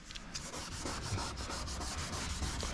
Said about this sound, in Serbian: šmirglate u jednom smjeru